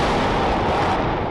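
Airstrikes pounding Gaza at night in wartime, heard as a continuous loud rumble of explosions and artillery-like blasts, dense and unbroken, with no voices over it.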